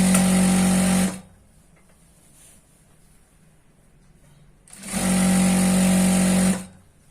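A sewing machine stitches a churidar pant in two bursts, a steady close motor whir for about a second, then quiet, then a second longer run of roughly a second and a half.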